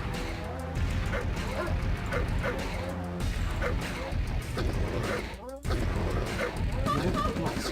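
Attack dogs in the strategy game Red Alert 1 bark repeatedly, with sharp yips and a whimper, amid a dense, steady mix of battle sounds and voices.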